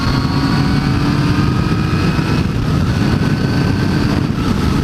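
A 2017 Yamaha FZ09 motorcycle is ridden at steady speed, its engine a continuous loud drone under heavy rushing wind, constant and unbroken throughout.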